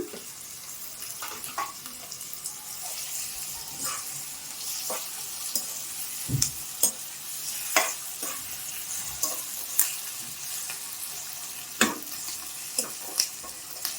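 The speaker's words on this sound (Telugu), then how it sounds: "ఇప్పుడు నేను టమోటాలు, కరివేపాకు, పచ్చిమిర్చి వేస్తున్నా." Tomatoes, curry leaves and green chillies fry in a pan with a soft continuous sizzle, punctuated by repeated sharp clinks and scrapes of stirring, no talking.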